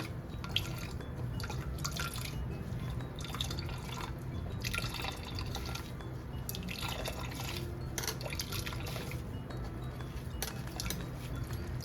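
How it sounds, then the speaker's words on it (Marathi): Amla juice drips and trickles through a sieve as it is strained, a continuous close patter of drops with occasional faint clinks and no talking. "कपड्याने पण गाळू शकता तुम्ही पण मला चाळणीने बरं वाटते पटकन होतं"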